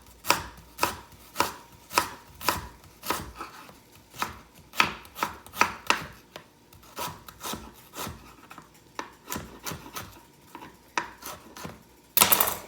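A knife chops an onion on a cutting board in a steady run of about two dozen crisp, close knocks, each blade strike landing with a short woody thud, with no talking.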